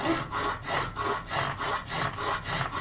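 A file or sharpener rasps across the edge of a sawback knife in steady back-and-forth strokes, about six even, close-up scrapes with no talking.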